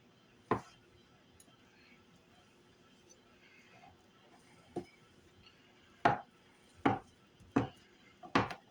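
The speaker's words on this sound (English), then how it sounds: "Cutting them into little bite-sized pieces." A knife chops Spam into bite-sized cubes on a cutting board. There are about six sharp, close knocks: one early, then a quiet pause, then a quicker cluster of cuts toward the end.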